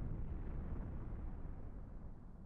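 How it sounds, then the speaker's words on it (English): An explosion in the video game Madness: Project Nexus rumbles low and muffled, a faint sustained roar that fades slowly with no talking. "That's a victory explosion."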